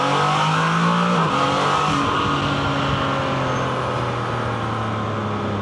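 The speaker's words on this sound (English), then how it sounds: "So give it a little gas here." Can-Am Spyder three-wheeler with a baffled exhaust, engine revved up once then settling to a steady idle rumble, close and loud with no talk.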